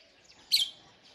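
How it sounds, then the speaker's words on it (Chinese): Magpies foraging outdoors give a single brief, bright chirp midway through a short, quiet stretch of faint background. "这三只喜鹊每天就在这里找吃的"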